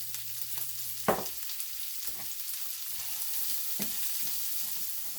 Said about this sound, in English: now I'm going to fry up some onion with that bacon